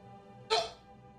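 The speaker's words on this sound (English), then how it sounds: "You're starting with a burp and a hiccup." A single short hiccup-like burst from a person, abrupt and fairly close, fading quickly into a quiet room.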